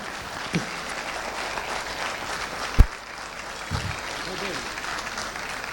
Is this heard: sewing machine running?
no